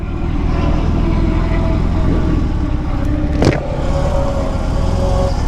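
Motorcycle engines at MotoGP qualifiers make a constant, loud, low rumbling drone across a huge venue, with one brief sharper engine swell near the middle.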